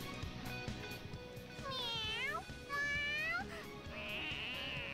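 A cat in the video game Persona 5 meows excitedly, several rising and falling calls in quick succession over low background game music.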